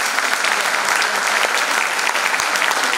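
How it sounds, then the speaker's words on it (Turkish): An audience applauds a soloist at a Turkish classical music concert, loud continuous clapping filling the hall throughout, close and steady. "Alkışlarımızla geliyor."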